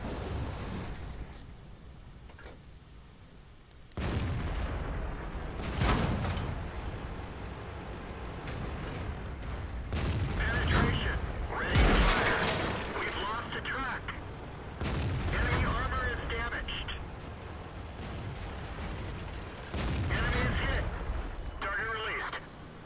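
Tank cannon shots and hits from a Black Prince tank in a World of Tanks battle on the Erlenberg map, several heavy booms spread through the stretch amid game noise and spoken in-game voice lines.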